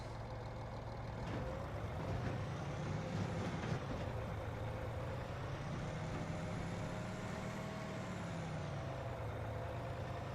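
A truck in a video game rumbles steadily at moderate volume for the whole stretch, with a low engine drone, air-brake-like hiss and faint higher tones, and no talk over it.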